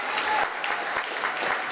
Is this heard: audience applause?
yes